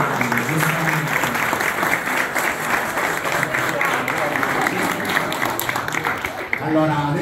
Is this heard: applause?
yes